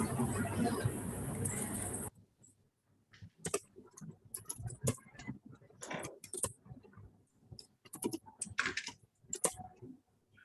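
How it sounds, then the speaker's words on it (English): A computer keyboard is typed on in short irregular bursts of close, crisp key clicks separated by quiet pauses, after a brief stretch of louder background noise. "I will type the question."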